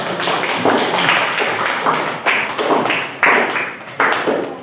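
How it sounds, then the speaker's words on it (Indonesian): A classroom of students applauds a presenting group with loud, close clapping in rhythmic bursts, swelling and dropping in a repeated pattern. "tepuk tangan kelompok 3"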